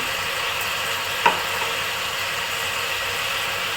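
Ground coriander, cumin and turmeric fry in a pan for Mandya-style boti gojju, giving a steady, even sizzling hiss with one sharp click partway through.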